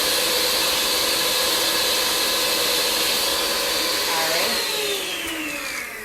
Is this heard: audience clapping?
no